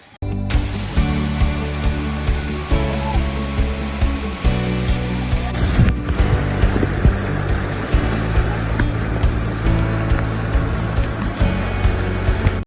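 Heavy monsoon rain and a flowing waterfall along the Visapur Fort trek make a loud, continuous rushing roar that fills the scene beneath steady background music.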